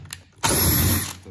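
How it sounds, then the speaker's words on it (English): A power drill left in hammer-drill mode runs a self-feeding bit through a hole in one quick, loud whirring burst of under a second, followed by a faint tail. "See how fast that drilled that hole?"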